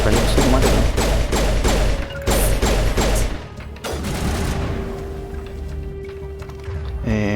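Assault rifle fire from the Mass Effect video game rattles in loud rapid bursts, with heavy thuds and explosions, before settling into a quieter droning stretch and another sharp burst at the end.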